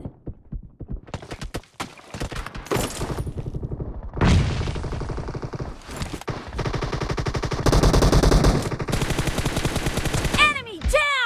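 Automatic M416 rifle fire in PUBG Mobile during a team deathmatch, with repeated close, loud bursts and single shots over several seconds, mixed with game sound effects and brief in-game voice callouts.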